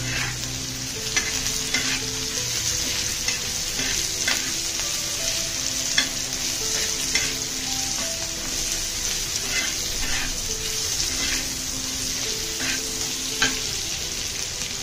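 Onions fry with salt in a pan for Kolhapuri misal, a steady loud sizzle with repeated scraping stirs throughout, no voices.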